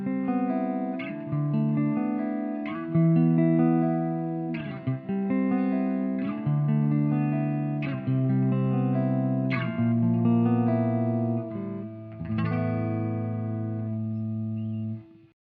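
Electric guitar played through a Line 6 Pod Go modeling a JTM 45 amp and cab, with only amp and cab active: strummed chords and arpeggiated notes ring out in repeated phrases, sustained and moderately driven, with no voices.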